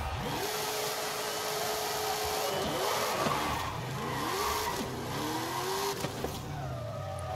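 Ford Raptor R engine accelerating hard in Forza Horizon 5, a loud continuous roar with rising pitch sweeps as it climbs through repeated gear changes, with brief tire noise.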